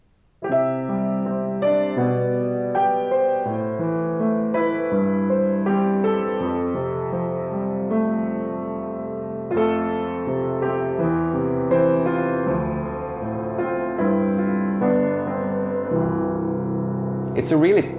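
A tall 1915 Ekströms upright hybrid piano, restrung with hammered-in tuning pins, plays a flowing passage of chords and melody at close range, sustained notes overlapping steadily throughout with a brief sharp sound at the very end.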